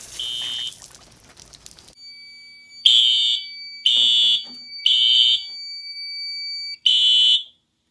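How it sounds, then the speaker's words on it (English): After a sprinkler activation, a building fire alarm sounds a shrill electronic tone in four loud, evenly spaced blasts of about a second each, with silent gaps between them. A brief tone and some rustling come before. "silence the fire alarms"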